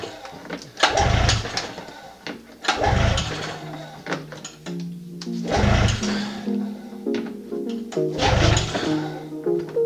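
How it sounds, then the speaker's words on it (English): A cold, hard-starting Yamaha SXR triple-cylinder engine is pull-started with four loud, rasping cord yanks spaced a few seconds apart, each with a brief cough from the engine, and faint voices in between. "pull the starter up, make sure the throttle's nice and loose, let's give it a rip."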